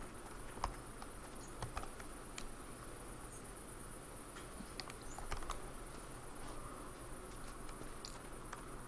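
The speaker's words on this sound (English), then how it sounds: "Crickets and such." Crickets chirp steadily through a night scene in the video game Eastshade, a dense, continuous insect trill with a few faint clicks scattered over it, no voices.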